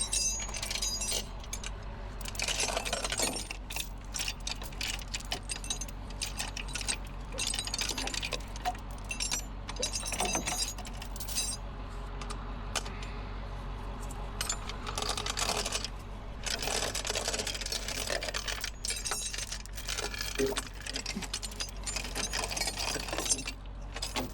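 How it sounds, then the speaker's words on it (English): Tow truck chains rattling and clinking as they are loosened, in irregular bursts of metallic jangles, near and fairly faint over a low steady hum. "I gotta try to get my chains loose"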